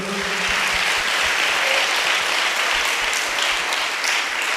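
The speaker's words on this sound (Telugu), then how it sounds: "గట్టిగా ఒకసారి చప్పట్లు కొట్టండి అందరూ" A church congregation claps together in a loud, sustained burst of many hands that carries on steadily without a break.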